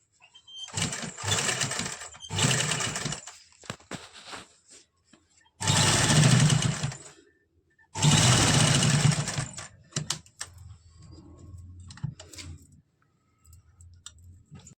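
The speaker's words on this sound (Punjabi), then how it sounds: "ਹੁਣ ਆਪਾਂ ਸਲਾਈ ਸ਼ੁਰੂ ਕਰ ਲੈਂਦੇ ਹਾਂ" A sewing machine stitches a fabric strip onto a frock or kameez in several loud, close whirring bursts of a second or two each, separated by pauses filled with faint clicks and handling noises.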